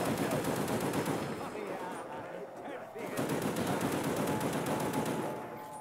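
Rapid automatic gunfire from a Call of Duty zombies game on the Ascension map, loud sustained bursts of shots filling the clip with a brief lull midway, with a little voice underneath.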